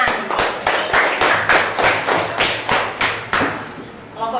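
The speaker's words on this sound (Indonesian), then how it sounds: "Tepuk tangan." A fifth-grade class claps in unison in a classroom, about ten loud, sharp, evenly spaced group claps in a steady rhythm, close and punchy, then fading out at the end.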